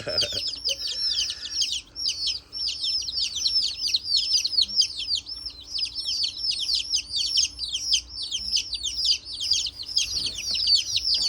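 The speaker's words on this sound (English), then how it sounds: "I don't know what kind of chicken he is though, but I hope he survives." Young chicks of the Frying Pan Specials breed keep up a dense, continuous chorus of high peeping chirps, close and lively, with no talking over them.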